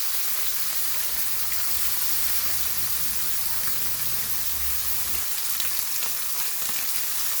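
Goan Lepo sole fish frying in a pan gives off a steady, dense sizzle that runs unbroken and fairly loud from start to finish, with no one talking.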